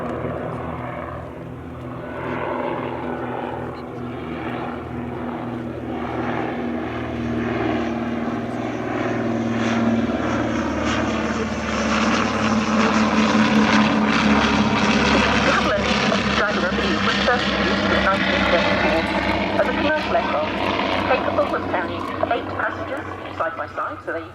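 A de Havilland DH-89A Dragon Rapide twin-engine propeller biplane, RAF-built in 1941, drones steadily close by, its engines swelling louder toward the middle before easing slightly, with someone talking over the engine noise throughout.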